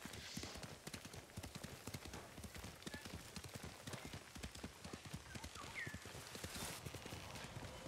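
Horse hooves clop in a quick, steady rhythm as a horse is ridden in the video game Ghost of Tsushima, close and fairly faint, with occasional game sounds.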